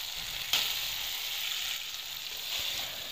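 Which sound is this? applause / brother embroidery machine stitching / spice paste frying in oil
spice paste frying in oil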